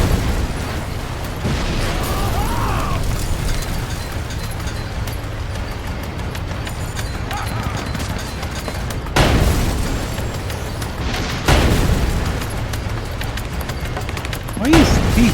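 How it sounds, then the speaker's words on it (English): Muffled booms and bursts go off repeatedly in the video game Sand Land, with two sharper blasts standing out amid a continuous rumbling, busy game soundscape. "Explosion goes off right underneath"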